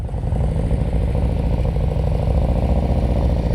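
Motorcycle idling and rolling slowly through an advanced slow-speed riding practice drill in Pennsylvania, a steady low engine rumble with light mechanical clatter, close and continuous throughout.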